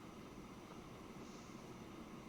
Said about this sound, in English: This is a logging train.